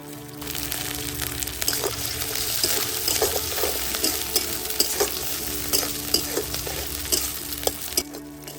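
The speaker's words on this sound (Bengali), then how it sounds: "এবার রান্না ভেজে নিচ্ছি কুচি করা পেঁয়াজ এর মধ্যে দিয়ে দেব কেটে এবং ধুয়ে রাখা চিংড়ি মাছ" Chopped onion frying with cut, washed prawns in hot oil, a continuous close sizzle broken by sharp spatula scrapes and taps against the pan at uneven intervals.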